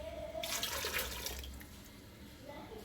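Water poured into a pot of Jamaican rice and red peas, a brief splashing gush that rises quickly and then tapers to a softer trickle, fairly quiet and close.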